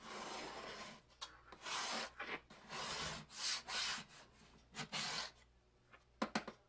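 A water-softened coating being scraped off a surface, heard as a series of close, rasping scrapes in uneven strokes with short pauses between them and a few sharp clicks near the end, with no voices.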